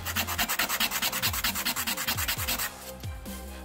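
Sandpaper rubbed back and forth along a small HO-scale model utility pole, a steady run of quick rhythmic scratching strokes close up, then a few slower scrapes at the end, with no talking.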